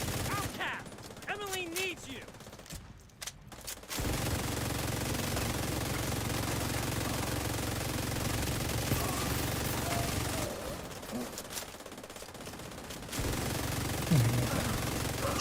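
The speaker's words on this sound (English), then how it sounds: "let's just keep firing." Gunfire from a shooter video game, heard as a steady, continuous stream of rapid automatic shots running through most of the stretch, with brief breaks and a faint voice at moments.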